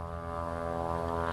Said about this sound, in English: sorry about the plane, it's passing over right now